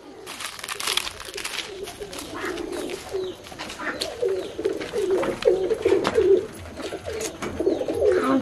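Pigeons at feeding time cooing in a continuous low murmur, close and moderately loud, mixed with scattered rustling, flapping and pecking noises.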